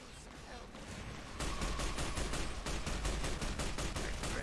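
Rapid gunfire in the video game Fallout: New Vegas, a fast steady volley of shots that starts partway in and keeps hammering loudly to the end, with quieter game ambience before it.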